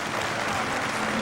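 An indoor trial motorcycle crowd applauding rider Adam Raga, dense sustained clapping filling the arena, loud and continuous with faint voices underneath.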